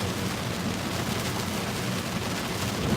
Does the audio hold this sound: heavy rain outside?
yes